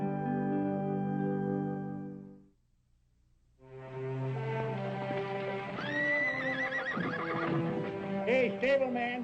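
Horses in a Western setting whinny loudly in long, wavering calls, then after a short silence more neighing and snorting follows over a steady background, with hooves clopping faintly.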